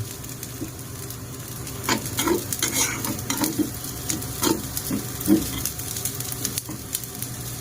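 Fried rice being stir-fried and mixed in a pan: a steady sizzle under repeated scraping and tossing strokes from a utensil against the metal, close and without talk.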